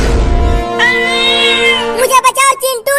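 A cat gives a drawn-out, rising meow followed by a few shorter, choppy cries, loud and close.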